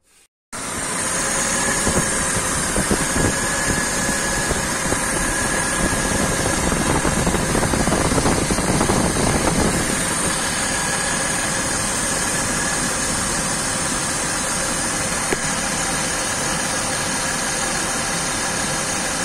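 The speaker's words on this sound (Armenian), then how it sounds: "Փորձենք այս վիճակով շարժիչը գործի գցել" A BMW E39's M52TU inline engine, which has an oil leak from its oil pressure sensor, cranks briefly and catches. It then settles into a steady, close, even idle hum with a faint high whine, and no voices are heard.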